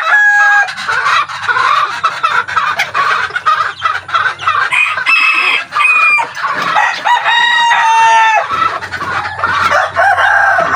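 Loud, close hens cluck continuously while a rooster crows over them, with overlapping calls from several birds throughout.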